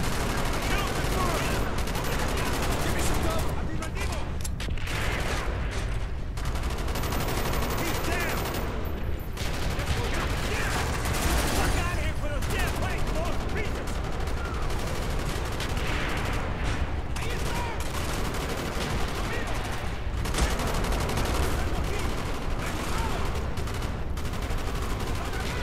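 Nearly continuous gunfire fills a Call of Duty Black Ops mission, with loud rapid bursts and heavy rattling shots, a few short gaps, and occasional talking mixed in.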